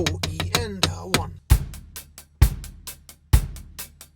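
Hi-hat groove on a drum kit with four quick 32nd-note hi-hat strokes shifted half a beat earlier, driven by solid kick hits recurring each bar, close and crisp; a short spoken count precedes the pattern.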